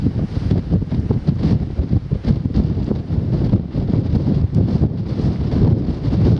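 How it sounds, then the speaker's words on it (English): Loud, constant wind buffeting a microphone on a windy walk from Lewes to Seaford, a low rumbling roar with gusty swells throughout and no voices. "Bizarre on a windy day like today"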